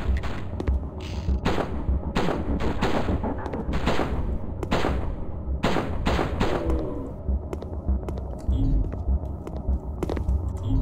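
An enemy fires a gun in a haunted PS1 demo disc game, sharp repeated gunshot cracks in an irregular volley over a low droning game background, fairly close, with no talk.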